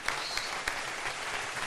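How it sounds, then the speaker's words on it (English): Soft, distant audience applause at a talk show event, steady clapping with a few sharper claps standing out, fairly faint overall. "give them a big round of applause for coming out here"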